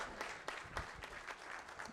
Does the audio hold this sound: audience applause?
yes